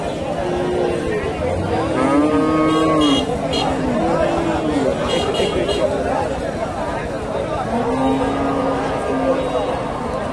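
Several low, drawn-out moos from Holstein Friesian cattle sound one after another over a busy background of people chattering nearby at a cattle market in Bogura, Bangladesh.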